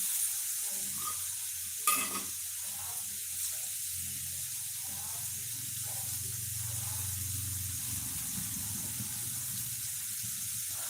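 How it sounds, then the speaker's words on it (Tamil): Onion and tomato sautéing in a pan for a meal-maker chukka fry, with a steady soft sizzle, stirring scrapes and a brief clatter near the two-second mark. "நம்ம எல்லாத்தையும் போட்டனால நல்லா வதங்கிடும் பாருங்கள்"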